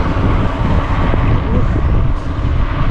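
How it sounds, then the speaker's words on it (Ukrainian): Strong tailwind roars and buffets the microphone in a dense, continuous rumble, loud and close throughout, during a bicycle ride. "Але сильний вітер."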